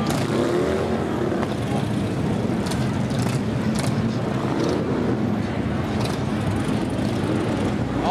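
Several Can-Am three-wheel motorcycles roll past in a line at the Lone Star Rally on the Strand, a steady broadband engine roar with a crowd murmur and traffic bustle underneath that never drops away.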